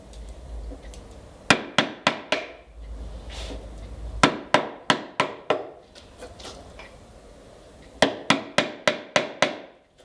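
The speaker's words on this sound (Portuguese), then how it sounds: "com o chanfro do formão para baixo, para fazer esse processo de alavanca, nós vamos tirar então o nosso excesso" A wood chisel, bevel down, is struck and levered to clear excess wood from a mortise, giving three bursts of sharp, evenly spaced knocks close up, five or six per burst, with quieter scraping between.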